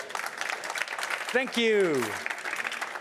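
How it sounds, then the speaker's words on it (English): An audience at a panel session in the Covestro Arena at the K2022 trade fair applauds with a dense patter of clapping while a voice speaks briefly over it. "Please give our panel a big round of applause."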